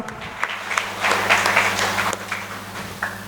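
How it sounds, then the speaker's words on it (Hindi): An audience at an anniversary celebration gives a short burst of applause to welcome a company CMD, moderately loud and brief, over a steady low hum from the hall's sound system. "जोरदार तालियों के साथ हम लोग स्वागत करेंगे अपने CMD अमरलाल कानू जी का"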